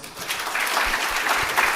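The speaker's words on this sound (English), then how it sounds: "I ain't tell you stop clapping, keep clapping." An audience at an end-of-year gathering claps in dense, steady applause that swells slightly, with no clear voices on top.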